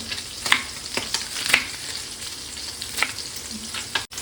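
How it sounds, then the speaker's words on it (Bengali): Steady hot oil sizzling close by as small puti fish fry, with occasional sharper crackles and spits over a constant hiss; no voices. "মাছগুলো আমার ভাজা হয়ে গেছে, এবার আমি মাছগুলো তুলে নেব।"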